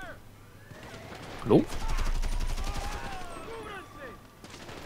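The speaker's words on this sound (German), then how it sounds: "Boah, der Panzer schießt auf mich." In GTA 5, a military tank fires at the player, and a loud blast comes amid rumbling gunfire, with someone speaking briefly over it.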